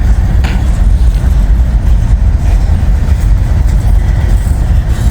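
A freight train with a distributed power locomotive, trailing tank cars, passes close by with a loud, continuous, heavy rumble as the engine works hard under load. No voices.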